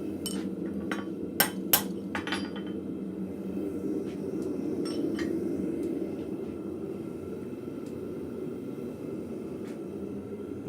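Several sharp metallic hammer strikes ring out early on as a blacksmith drives a drift to enlarge a punched hole in hot steel, then a steady low hum fills the rest of the time.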